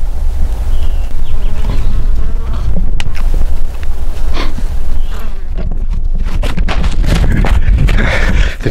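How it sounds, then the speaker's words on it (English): Bees swarming around a hive outdoors in the western US, a loud, continuous insect buzz close to the microphone with scattered sharper bursts as individual bees pass near. "Bees are starting to swarm around me."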